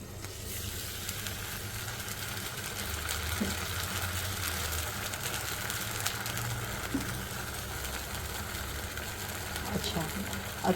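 Lentil dosa batter hits a hot, oiled non-stick pan and sets off a steady, continuous sizzle with faint crackles, while a voice talks quietly underneath.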